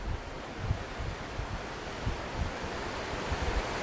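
Waves wash onto a long dirt-and-sand beach at Lake Havasu, Arizona, in a steady broadband surf hiss. Soft low swells rise and fall through it, and strong wind buffets the microphone. No voices are heard.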